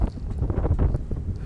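Wind blowing outdoors in a downtown area, buffeting the microphone with a dense low rumbling gust throughout this brief moment, no talk.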